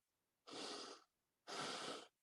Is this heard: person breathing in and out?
yes